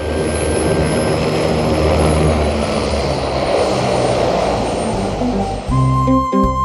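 A fire rescue hovercraft roars past close by, its loud, continuous engine and propeller drone steady throughout before dipping briefly and shifting to a lower hum at the end.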